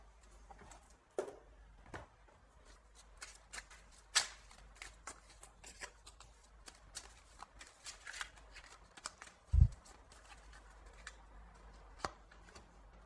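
Oracle cards being shuffled in quiet surroundings, giving soft papery riffles and slaps in irregular bursts, with a sharper thump near the middle and no talking.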